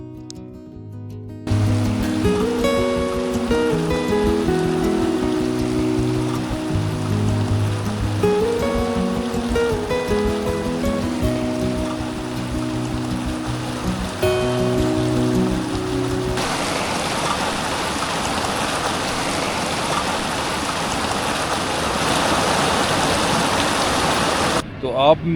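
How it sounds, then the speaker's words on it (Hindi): Steady rain falls at a Himalayan base camp in mist, a dense even hiss with a music track playing over the first two-thirds before the rain stands alone and fills the scene. "कल रात से लगी बारिश और धुंध में छुपी इन लैंडस्केप के साथ"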